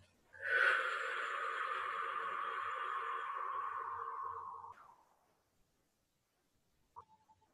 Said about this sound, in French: Expiration, je vide, je vide, je vide.